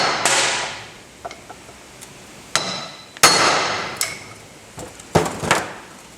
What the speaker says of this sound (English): Just need to whack that retainer a few times.